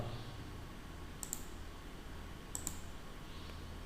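Computer mouse clicks in quiet, faint and close, two brief double-clicks spaced more than a second apart over a low background hum.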